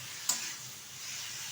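Snake gourd frying uncovered in a pan for a prawn dish, a steady close sizzle with one brief clatter near the start, no one speaking.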